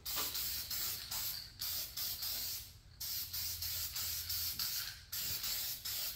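An aerosol spray can hisses in repeated short bursts while laying down a faux patina finish, each spray close and steady, separated by brief pauses.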